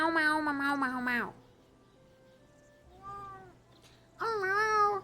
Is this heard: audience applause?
no